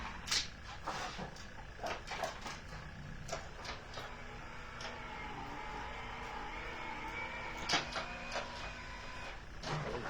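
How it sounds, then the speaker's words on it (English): A cut and emboss machine for card making runs steadily with a continuous mechanical hum and grind, punctuated by occasional clicks and knocks, close and moderately quiet, with no talk. "let me put this through the cut and emboss machine."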